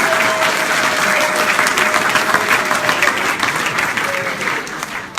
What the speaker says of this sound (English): Another big round of applause for our next executive.